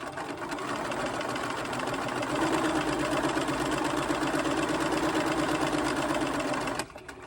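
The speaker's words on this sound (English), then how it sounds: "once that block is there, we can sew down the diagonal of that block" A sewing machine stitches down the diagonal of a quilt block in one steady, close, loud run of rapid whirring for about seven seconds, then stops abruptly.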